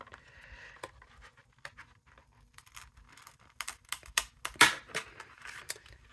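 Scissors snip through a card border for a daisy-themed card, a run of quiet, close, irregular cuts and paper rustles that grow busier toward the end.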